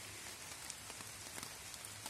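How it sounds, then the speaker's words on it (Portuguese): Steady rain falling in woodland during a hunt, a dense even hiss with scattered drop patters throughout, fairly quiet and with no voices. "A chuva veio."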